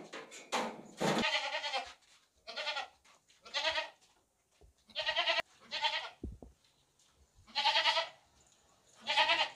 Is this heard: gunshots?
no